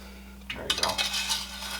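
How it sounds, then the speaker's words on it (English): A spoon clinks and scrapes against a pan while sauce is ladled over baked apple dumplings, a short cluster of light metallic taps and wet scraping, close and fairly quiet over a low steady hum. "I'm gonna have to spoon it over some of them."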